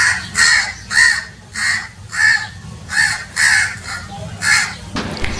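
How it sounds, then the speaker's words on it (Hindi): A crow caws eight times in a steady, evenly spaced series of loud, harsh calls, close and clear over a low background hum, followed by a brief burst of other sound at the end. "अब हम कौवे के बारे में देखते हैं, जिसे इंग्लिश में हम क्रो कहते हैं।"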